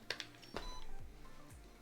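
An Insta360 Flow handheld gimbal is unfolded and powered on. Two quick electronic beeps come first, then a sharp mechanical click and a soft motor whir with falling tones, all faint and close.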